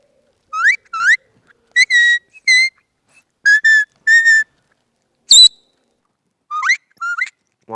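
Short, high-pitched blasts from a dog whistle sound in separate bursts, mostly in pairs with gaps between, clear and close against silence.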